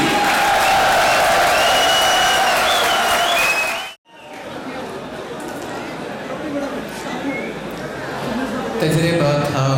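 A crowd at an Urdu poetry mushaira applauds loudly to welcome the poet Afkar Alvi. The dense clapping lasts about four seconds, cuts off sharply, then gives way to a quieter room murmur and chatter.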